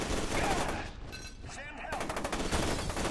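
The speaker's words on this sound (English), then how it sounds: "You got a whole shotgun, brother." Rapid shotgun blasts in the shooter game F.E.A.R. 2: Project Origin, loud bursts of gunfire layered with in-game noise, with a brief lull before firing resumes in dense repeated shots.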